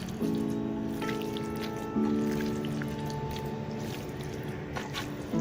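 Wet squishing and squelching of hands working marinade together, a soft irregular mush with faint drips, heard close over a steady low hum.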